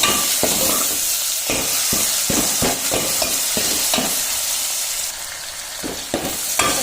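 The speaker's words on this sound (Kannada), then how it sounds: "ಬೆಳ್ಳುಳ್ಳಿ ಚೆನ್ನಾಗಿ ಕೆಂಪಾಗೋವರೆಗೂ ಚೆನ್ನಾಗಿ ಹುರ್ಕೋಬೇಕು" Garlic frying in a pan for a North Karnataka bhaji, a steady loud sizzle with repeated scraping stirs of a spatula throughout, no voices.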